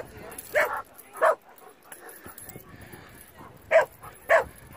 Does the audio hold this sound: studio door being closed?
no